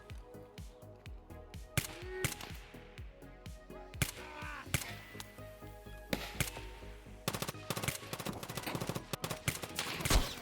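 Gunfire in the video game Escape from Tarkov: sharp single shots and rapid automatic bursts crack at irregular intervals, some near and loud, others more distant, building into dense fire toward the end.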